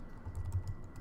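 Brief burst of typing on a computer keyboard, a handful of soft quick clicks, close and quiet with no talk.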